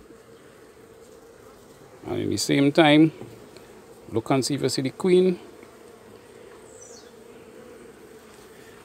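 Honey bees buzz steadily around an opened beehive as a frame is lifted out, a constant close hum running throughout while someone talks over it in two short bursts.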